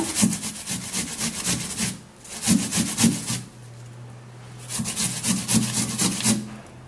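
An onion being grated by hand on a grater, rhythmic rasping strokes in quick bursts with two short pauses, close and fairly loud, a faint low hum in the gaps and no talk.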